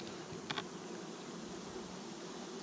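A steady, faint hum of many honeybees buzzing in a dense swarm around nucleus hive boxes, continuous with no talking, with a couple of brief brighter ticks early on.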